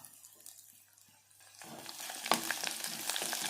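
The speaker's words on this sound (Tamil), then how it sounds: "சோம்பு ஜீரகம் கடலப்பருப்பு உளுத்தம்பருப்பு எல்லாம் நல்லா பொரிஞ்சு வரட்டும்" Fennel seeds, cumin, chana dal and urad dal start frying in hot oil, a crackling sizzle that rises suddenly and keeps popping close by.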